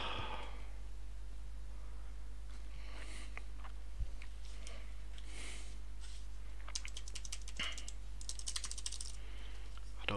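Someone types on a computer keyboard during a live Python coding stream, with faint, scattered clicks and short bursts of keystrokes over a steady low hum.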